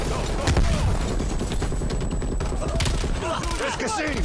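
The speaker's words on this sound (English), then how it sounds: "I got something for them. Grenade!" In a realism-mode shooter video game, a grenade goes off in a burst of loud blasts and rattling gunfire that fill the short stretch, with a voice shouting over the chaos.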